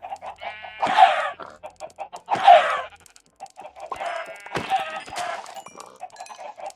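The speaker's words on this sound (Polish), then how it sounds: "E, tutaj mamy ładnie kurczaki." Chickens in a Minecraft game cluck in short, bright bursts, several calls coming one after another at close range, with no talk over them.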